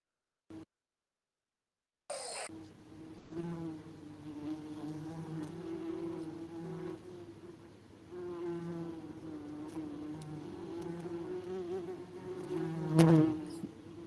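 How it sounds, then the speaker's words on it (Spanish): Wasps buzz around nests on house roofs, a close, continuous droning hum that wavers in pitch and intensity as the insects move, rising near the end. "estas son esencialmente unas avispas que les encanta hacerse en los techos de las casas."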